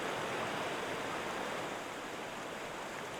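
A recorded river in the Reaper audio software gives an even, continuous hiss of rushing water, playing alone without voices and staying steady across its short span.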